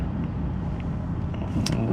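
Road traffic rumbles past close by as a lorry waits at a junction to pull out, a steady broadband engine and tyre wash with one vehicle swelling louder near the end.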